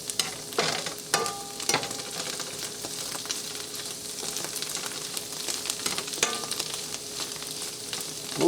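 Golden chanterelle mushrooms frying in butter in a pan, a steady crackling sizzle with occasional sharper clicks of stirring, close and continuous with no talking.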